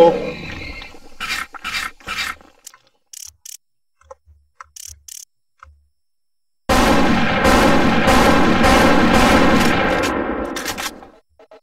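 Turret gunfire in a video game: rapid bursts of mechanical shots, first scattered and clipped, then a long loud sustained volley that fades out near the end.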